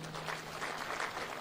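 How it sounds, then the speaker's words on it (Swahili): A crowd at a Labour Day gathering at Uhuru Gardens applauds the labour leaders, a steady wash of many hands clapping at once, dense and continuous, with no voices standing out. "Tuwapigie makofi hawa wadosi"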